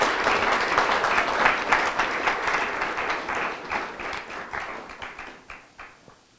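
A festival audience at the Prairie Festival in Kansas gives a burst of applause after a poem reading, dense clapping that starts strong and gradually thins and fades over several seconds.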